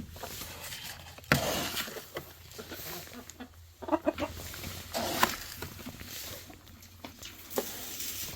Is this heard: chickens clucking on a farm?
yes